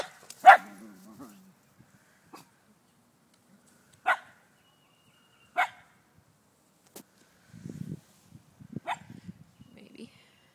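A dog gives a few sharp single barks spaced seconds apart in a quiet room, then a brief low whimpering, with a person speaking between the barks.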